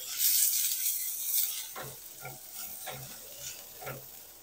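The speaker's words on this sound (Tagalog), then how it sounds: "Tapos, igigisa natin yung sibuyas and bawang." Onion and garlic sauté in oil in a pan with a steady, close sizzle, broken by a few rhythmic scrapes of stirring.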